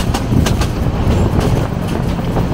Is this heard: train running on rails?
yes